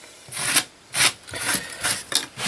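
Repeated rough scraping strokes of a cedar shim scraping wood flat, a dry rasping sound in uneven bursts, close by with no voices.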